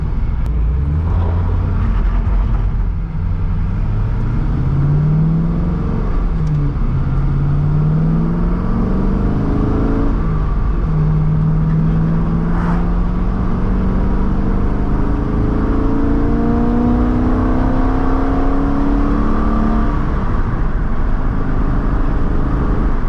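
A Corvette C5 Z06 V8 with a new X-pipe exhaust revs up repeatedly nearby, pitch climbing and dropping in several long sweeps over a constant rumbling exhaust.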